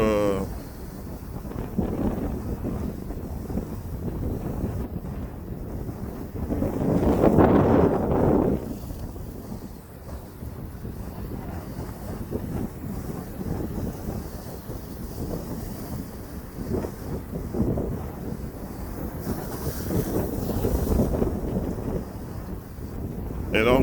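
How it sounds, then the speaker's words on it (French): Strong wind off Lake Michigan buffets the microphone in a constant roar by a marina quay, with gusts swelling louder at times. "Vous avez un vent qui est terrible."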